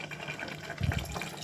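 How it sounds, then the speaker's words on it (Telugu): Water poured from a vessel into mutton curry masala in a pressure cooker, a short gurgling splash rising midway through, close and fairly quiet. "దీనికి సరిపడా వాటర్ వేద్దామండి."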